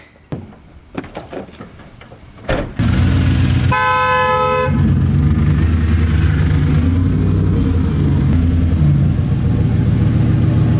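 A V8 Dodge Dakota sport truck with a five-speed starts up after a few clicks and a brief horn toot, then settles into a loud, steady idle rumble up close while pulling into a shop.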